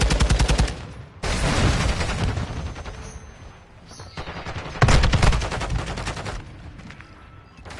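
Rapid bursts of automatic gunfire in Call of Duty: Modern Warfare 2 ranked play, loud and close, coming in several sustained volleys separated by brief pauses.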